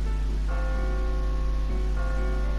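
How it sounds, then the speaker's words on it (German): Church bells ring in the video game My Time at Portia, two sustained, resonant strikes about a second and a half apart over a constant low hum, with no talking. "Siehst du die Kirchenglocken, die Glocken von vor uns?"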